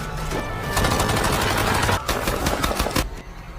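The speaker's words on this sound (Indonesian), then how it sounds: "polisi yang tiba langsung dibrendel dengan peluru oleh geng Nagazi" Sustained rapid gunfire from a gang shootout against arriving police in the action film Extraction 2, loud dense bursts with brief pauses near two and three seconds.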